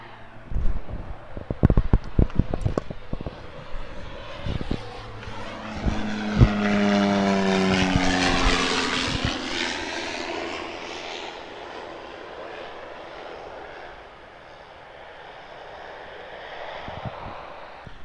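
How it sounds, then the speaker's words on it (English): A small propeller airplane passes overhead, its engine drone swelling loud and close, then fading into the distance, following some sharp handling knocks near the start; no one talks. "Oh, mandatory plane break."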